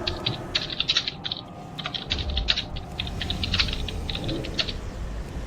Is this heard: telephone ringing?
no